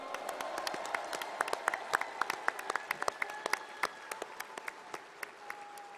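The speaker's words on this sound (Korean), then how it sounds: "축하와 위로의 큰 박수 부탁드립니다" Applause from the audience at a Democratic Party convention, following the acceptance speech of the newly elected party leader. Dense, steady clapping rings out across the hall, with louder individual claps standing out near the front.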